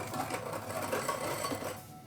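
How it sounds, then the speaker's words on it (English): Flour and baking powder whisked together in a bowl for a plant-based Victoria sponge, a steady close rapid rattling of wire against the bowl lasting about two seconds with no talk. "Just going to whisk these together to disperse all those ingredients."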